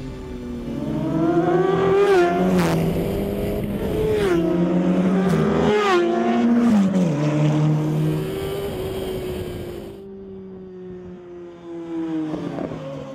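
A KTM X-Bow sports car runs hard on a race track, its engine revving up and dropping through repeated gear changes, loud and close, then easing to a lower drone near the end.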